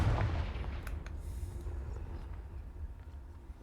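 A Confringo fire spell in Hogwarts Legacy lands as a single booming blast at the start, its rumble decaying over the next few seconds at moderate loudness with no one talking.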